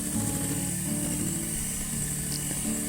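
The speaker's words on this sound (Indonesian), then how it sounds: "kita mixer menggunakan kecepatan yang paling rendah ya, di speed 1" An electric hand mixer runs steadily at its lowest speed, beating six egg yolks for a baked sponge cake, with a continuous whirring drone and faint ratcheting texture throughout.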